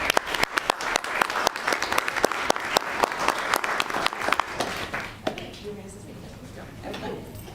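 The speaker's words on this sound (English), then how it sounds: "Let's give them a round of applause." An audience at a city commission meeting gives a round of applause, a full burst of overlapping clapping that fades after about five seconds into quiet room murmur.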